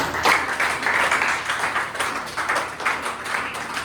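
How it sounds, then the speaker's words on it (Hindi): An audience at a Teachers' Day celebration applauds an invited guest, with many hands clapping in a steady, lively patter that stays fairly loud and close throughout. "तो एक बार सर के लिए तालियां बजा दें"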